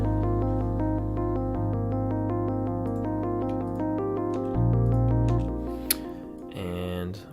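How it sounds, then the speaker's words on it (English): A rapid synth arpeggio drenched in heavy delay and reverb repeats in even pulses over a sustained bass line from a game soundtrack, ending with a brief louder flourish near the close. "Again, another arpeggio with a lot of delay and reverb."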